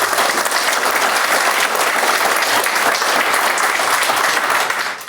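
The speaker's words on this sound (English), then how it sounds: "Please give her a round of applause." Sustained audience applause at an awards celebration, a dense, loud wash of many hands clapping steadily without a break, easing off slightly at the very end.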